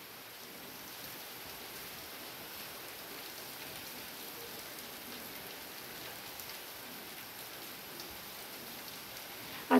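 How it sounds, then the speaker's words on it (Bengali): Steady rain falls on a rainy day, a dense, even hiss of drops on surfaces that continues unbroken throughout, moderately loud, with no voices and a brief knock right at the end. "এই বৃষ্টিটা কি সব জায়গাতেই হচ্ছে নাকি আমাদের এখানেই হচ্ছে"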